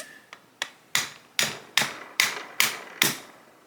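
The wooden handle of a hammer taps a part of a C96 Mauser Broomhandle pistol during disassembly. Eight sharp, close knocks come at a steady, even rhythm, each ringing briefly, with no talk.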